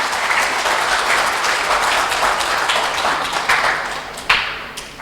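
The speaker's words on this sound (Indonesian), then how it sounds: "Monggo kita berikan aplaus yang meriah untuk beliaunya." An indoor audience at a regional radiology workshop in Jember applauds the Regent of Jember with steady, loud, sustained clapping that tapers near the end.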